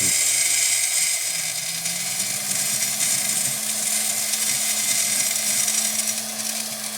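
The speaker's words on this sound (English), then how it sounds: "We're contour carving, getting rid of any excess material, trying to maximize the stone and bring out its own natural beauty." A high-speed rotary tool contour carves a fire agate stone, a steady thin whine with a hissing grinding edge, close and fairly loud, its pitch shifting slightly as the tool presses and lifts.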